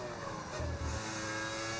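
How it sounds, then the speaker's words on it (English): A V10 Formula 1 car engine in the F1 25 racing game at the Singapore Grand Prix, a steady high-pitched engine drone with a brief low rumble mid-way, fairly faint and without speech. "Yes, we are running a V10 engine in the car."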